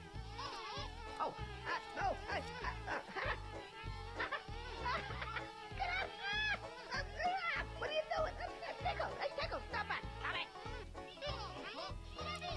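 Swarms of bees buzz in Conker's Bad Fur Day, rising and falling droning tones over a bouncy rhythmic game music beat, with some voice activity mixed in.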